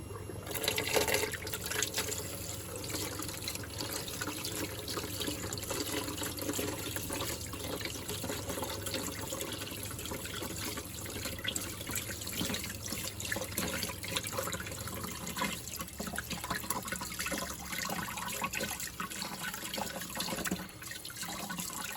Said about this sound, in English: So let's turn on the water here.